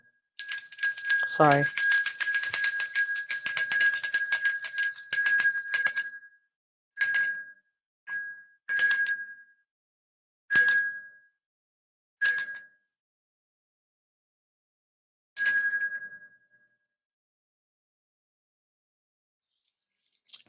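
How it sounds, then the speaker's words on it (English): A hand bell rings with a long sustained peal, then a series of short separate rings spaced a second or two apart, bright and close, with a brief spoken word near the start. "I'm going to ring this bell."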